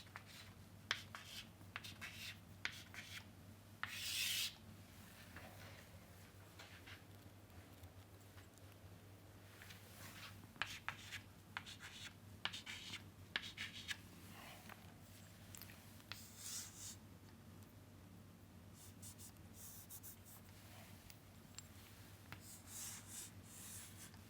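A diagram being drawn and written by hand: intermittent scratchy strokes and rubbing taps, close and faint over a steady low hum, with no speech.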